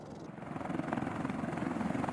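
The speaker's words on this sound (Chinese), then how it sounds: "直升机飞行过程中带来的摇晃、发动机产生的噪声" A Z-20 military helicopter's engine and rotor roar steadily from inside the cabin during a training flight, a dense, continuous drone that rises in the first moment and then holds loud and even with a faint rhythmic pulse.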